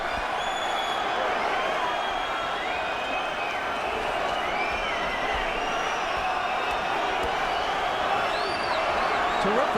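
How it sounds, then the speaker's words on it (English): A packed boxing arena crowd roars steadily at a heavyweight fight, a dense wall of cheering and whoops that holds at a loud, even level throughout with no break. "Just listen to the crowd."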